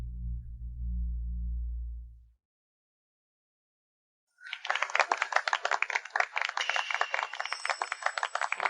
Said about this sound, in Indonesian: Berikan tepuk tangan meriah untuk menyambut pengantin tercantik